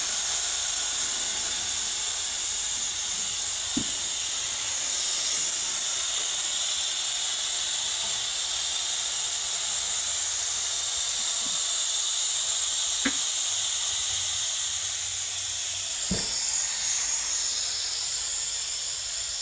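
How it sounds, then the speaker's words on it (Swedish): Oil suction pump drawing engine oil out of a lawn mower engine during a service, a steady unbroken hiss and whir throughout with a few faint clicks. "Då sätter vi igång sugen och så suger vi ut oljan."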